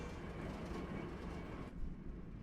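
A train rumbles past in the truck-driving game American Truck Simulator, a steady, dense rolling roar that holds for about two seconds and then thins out, heard alone without talk.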